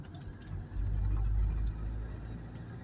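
An old tractor engine idles and runs steadily nearby, a low rumbling drone that swells louder for about a second midway, then settles back to a steady idle.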